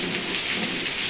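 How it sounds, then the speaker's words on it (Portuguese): Steady rain pouring down in Tangará, Rio Grande do Norte, in northeastern Brazil, a dense continuous hiss of drops hitting surfaces, loud and close with no voices. "Chuvinha agora aí, dia 17."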